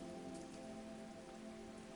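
Soft, continuous rainfall patters onto broad, waxy leaves, an unbroken hiss of many small drops landing close by at a steady gentle level, with no talking.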